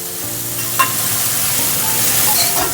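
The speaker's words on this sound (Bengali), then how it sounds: "এবার আমটাকে আমি হালকা করে ভেজে নেব।" Pieces of green mango are lightly fried in a pan, sizzling steadily up close, with a brief clink of stirring near the start.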